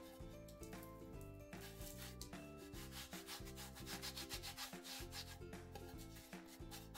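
A hardened mortar surface on a small homemade tabletop fireplace is sanded by hand in steady rubbing strokes, close and continuous, over a faint musical background.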